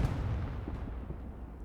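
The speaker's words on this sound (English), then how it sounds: "artillery zoned in right on that garrison behind the point and was able to dial in on it" Artillery in Hell Let Loose lands on a garrison behind the point, a low rumbling boom with dull thuds, distant and muffled, with no talk.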